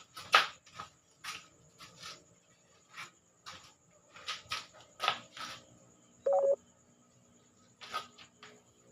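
A cellphone gives off a short electronic beep tone amid scattered clicks and knocks during a pool game, one clear sustained beep in the middle with faint sounds around it.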